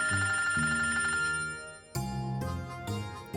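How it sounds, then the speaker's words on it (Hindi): A telephone rings with an incoming call in a home drama scene, a melodic electronic ringtone repeating in bursts over soft background music, with no talking. "लो जी, आ गया आपके सैया जी का फोन।"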